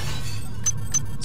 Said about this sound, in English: Some nice broken glass.